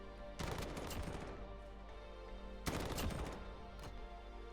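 Heavy gunfire in Call of Duty: Modern Warfare (2019), two loud bursts of rapid automatic shots, each ringing out for about two seconds, with a steady background din between them.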